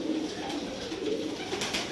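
Pigeons, including homing pigeons, coo steadily in a loft, several soft overlapping calls close by and continuous over a low background hum.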